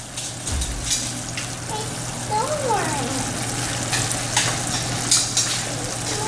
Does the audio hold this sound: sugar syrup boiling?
yes